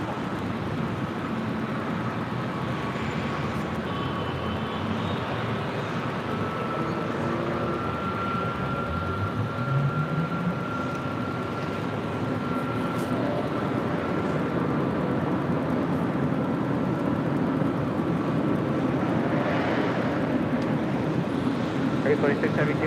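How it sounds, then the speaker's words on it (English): A Hawaiian Airlines Airbus A321neo departs LAX for Kona, with a steady distant jet engine roar that builds and holds throughout, under airport radio chatter and talk. "Hawaiian Airlines Flight 61 heading to Kona. This A321neo next departure."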